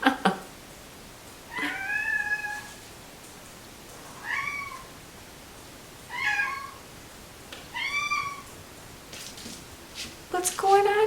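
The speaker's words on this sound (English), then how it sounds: "and my cat wanted to say hi." A house cat meows several times in short rising calls spaced a second or two apart, fairly close and clear against a quiet room.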